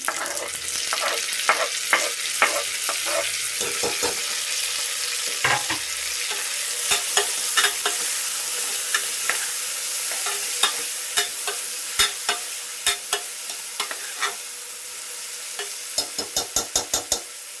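Ingredients for a sprouted-grain curry fry in a pan until they colour, a light sizzle under repeated spatula scrapes, ending in a quick series of sharp taps against the pan.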